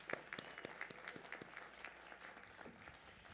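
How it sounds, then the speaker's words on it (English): Applause at a 2023 university commencement ceremony for graduates, a steady, fairly faint patter of many hands clapping across a large venue, with no talking. "Let's give him a round of applause."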